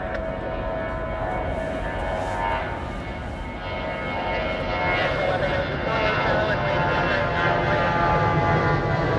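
An American Airlines Boeing 737-800 takes off at LAX, a broad, steady jet roar that builds gradually in loudness, heard from a distance outdoors.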